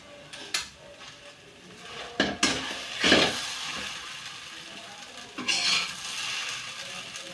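Cooked sabudana usal being scooped from a pan, with scattered metallic scrapes and clinks of a spoon against the pan, a few sharper knocks spaced out over a quiet background.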